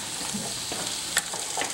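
Potatoes frying on medium-high heat in a pan as they are stirred, a steady close sizzle with scraping and clinking from the mixing, no voices.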